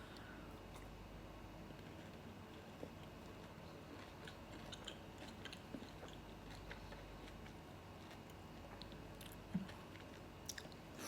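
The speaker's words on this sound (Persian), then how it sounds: "بیشترین لذتش هم این قرچ قرچ صدا کردن این مغزیه که وسطش از طعمای مختلف هم داره" Crunchy candy with a soft texture and a flavored filling chewed close to the microphone, a quiet, steady crackle and crunch that runs throughout, with a few sharper bites standing out.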